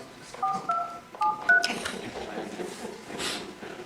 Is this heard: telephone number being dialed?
yes